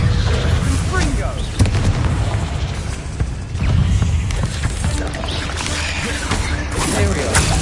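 Confringo explosion spell in Hogwarts Legacy: dense, continuous booming and crackling blasts from close by, layered over each other for several seconds with combat noise and voices mixed in.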